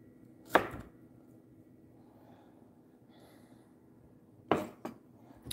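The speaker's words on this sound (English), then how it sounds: "So now he's chopping and dicing the mangoes." A knife chops and dices mangoes on a board, with two short sharp bursts of cutting spaced several seconds apart in a quiet kitchen.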